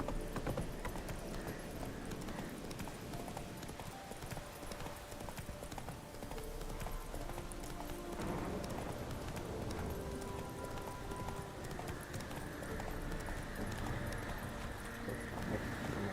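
Horse hooves clip-clop steadily through the open world of The Witcher 3 while a rider travels along, a continuous rhythmic trot beneath dense game ambience and music.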